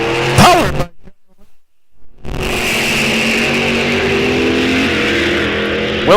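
A Willys and a Chevrolet drag racing at Rock Falls Raceway, engines snarling loudly at the launch, cutting out for a moment of near silence, then a long steady roar as the cars run down the strip.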